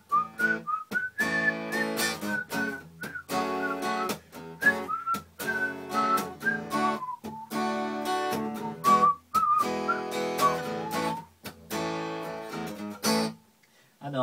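A melody whistled clearly and steadily, with short phrases and brief pauses over a backing of strummed guitar, moderately loud and close.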